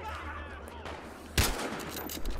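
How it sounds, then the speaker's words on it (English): In Battlefield Hardline multiplayer on PS4, a single loud, close gunshot cracks out about halfway through, over a low rumbling game ambience. "I had to shoot to be sure, man"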